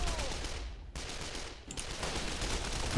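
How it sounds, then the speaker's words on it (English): Rattling gunfire from troops and a tank in the Men of War battle game, dense overlapping shots and bursts, loud and continuous with brief gaps, no talk. "Now everybody is shooting at everything which doesn't exist"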